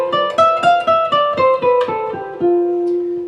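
An instrument plays an F Lydian scale, a quick descending run of distinct plucked notes, one after another in an even rhythm, ending on a longer held tone that fades out, close and clear with no voices.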